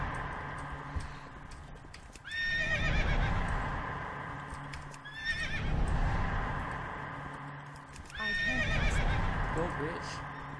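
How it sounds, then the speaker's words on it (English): Three loud horse whinnies in World of Warcraft, each rising then trailing off, spaced a few seconds apart over a dense rumbling background with hoofbeats and some talking. "Sorry about the horse noise"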